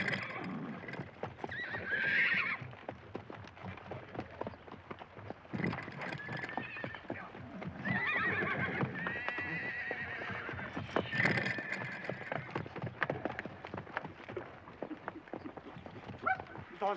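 A herd of horses in a western film, heard as constant clip-clop hoofbeats with repeated loud neighs and whinnies breaking through, busy and close throughout.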